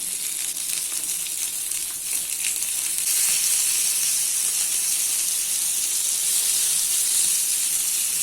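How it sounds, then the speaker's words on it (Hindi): Rohu fish coated in semolina fries in hot oil over a medium flame, giving a steady, dense sizzle and hiss that holds at an even, fairly loud level throughout, with no voices. "अभी फिश को दूसरी साइड से मीडियम फ्लेम पे 4 से 5 मिनट तक फ्राई कर लेना है।"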